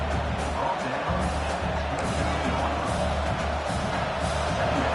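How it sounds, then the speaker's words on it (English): Stadium crowd at a college football game involving Arizona State, a continuous distant roar of cheering spectators, steady and moderately loud with no clear peaks. "This crowd bringing the energy and noise early."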